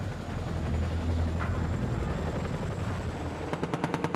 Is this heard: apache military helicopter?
yes